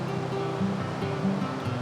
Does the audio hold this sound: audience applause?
no